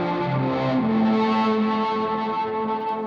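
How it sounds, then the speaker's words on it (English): Archetype Cory Wong distortion plugin driving a synth patch, giving a loud, saturated, sustained chordal tone with gliding pitch and chorus-like shimmer, steady throughout with no voices. "Just really amazing distortion on there"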